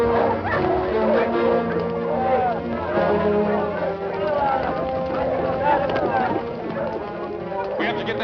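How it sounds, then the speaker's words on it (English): Pack of wild dogs barking and yelping continuously in an Arctic film serial scene, loud, overlapping yips under a busy orchestral soundtrack. "Mostly wild dogs."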